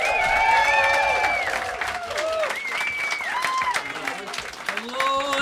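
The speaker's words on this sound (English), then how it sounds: "Start the round of applause. Start the whoop and start cheering." A comedy club audience claps and whoops to welcome a comedian on stage, sustained applause with scattered cheers and whistles over loud music, people calling out amid the crowd noise.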